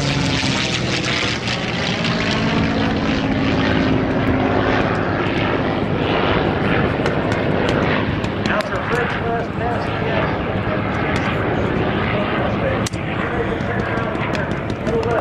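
A propeller airplane at an air show in Oshkosh, Wisconsin drones steadily overhead, a loud continuous engine roar with slight shifts in pitch, and faint voices beneath it.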